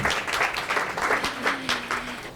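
A lecture audience breaks into applause, a steady patter of many hands clapping close by with uneven swells, while a brief low tone hums faintly underneath.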